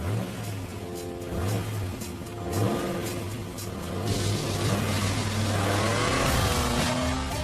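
TVR T350C sports car launching hard off the line, engine revving up through gears with loud rising pulls and short shift breaks, close and dominant.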